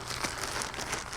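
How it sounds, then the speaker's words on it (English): A plastic bag holding a single-serving bannock bread mix crinkles close by in a brief, dense rustle with no voices. "in a plastic bag like this"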